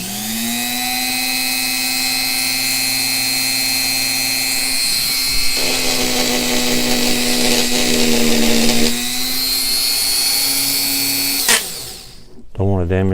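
A WEN rotary tool runs with a loud, steady high-pitched whine for several seconds, briefly rising in pitch, then cuts off and spins down.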